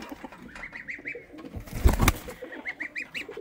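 Pigeons coo in soft repeated phrases inside a coop shared with chickens, with a brief louder scuffle or flap of wings in the middle and the cooing resuming afterward, close and moderately loud.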